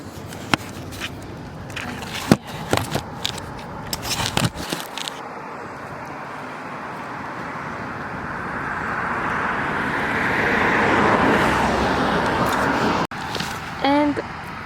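A car drives past outdoors at sunset, its swelling road noise rising and fading over several seconds after some close handling noise and talking.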